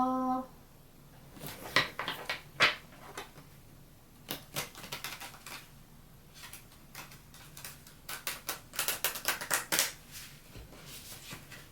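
A deck of playing cards is shuffled close by in a quiet room, giving bursts of quick crisp riffling clicks and flutters separated by short pauses.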